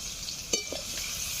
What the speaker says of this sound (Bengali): একটু লবণ দিয়ে দেব, তাহলে পেঁয়াজটা তাড়াতাড়ি ভাজা হয়ে যাবে।